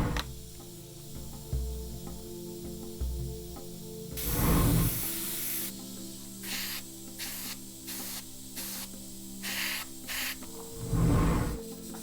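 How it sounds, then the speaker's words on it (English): An airbrush sprays Tamiya Clear paint onto a scale model in quick misted coats, giving one long hiss followed by a series of short, evenly spaced bursts and a final longer spray, close and fairly loud. "We sprayed them in quick misted coats to punch the colours out a bit."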